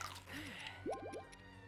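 Link eating food in Zelda Breath of the Wild: a soft wet squish followed by a quick run of four short bubbly, dripping chomps, close and moderately quiet over faint game background.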